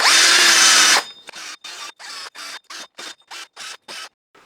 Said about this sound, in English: I'm going to give it a little tickle with a wire brush